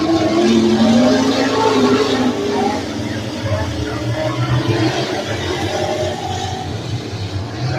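Outlaw street stock race cars roar around the Beckley Motor Speedway oval in a loud, continuous engine drone that rises and falls as they pass, while a commentator talks over the track noise.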